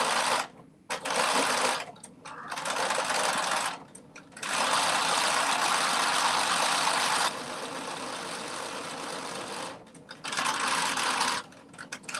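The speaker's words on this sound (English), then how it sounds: "I'm getting good at sewing. I'm going around the curves without stopping." A sewing machine stitching pants around curves runs in long, loud, close bursts of steady whirring, separated by a few brief pauses, with no talking.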